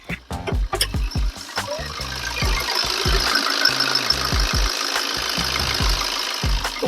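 A 2015 Maruti Swift Dzire with a 1.3 litre diesel engine running, a close, steady clattering idle with rhythmic knocks and a few sharper thumps at the start, no talk.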